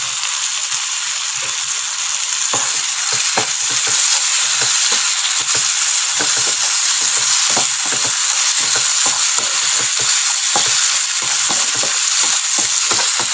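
Squid frying in masala for Kerala-style squid masala, loud and close: a dense, continuous sizzle with a spoon scraping and stirring through it in quick, uneven strokes.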